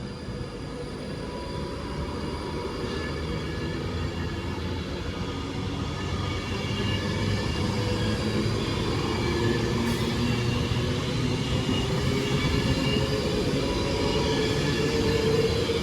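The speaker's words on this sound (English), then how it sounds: "Just stopped to drop off passengers only, is now making its way to London Euston." An Avanti West Coast passenger train pulls away from Watford Junction toward London Euston, a steady rumbling roll of wheels on rail with faint squealing that grows slightly louder over the length, with no talk.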